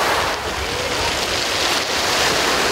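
Black Sea waves wash onto the beach at Dagomys, Sochi, on a morning, in a steady broadband surf roar with wind buffeting the microphone and no voices.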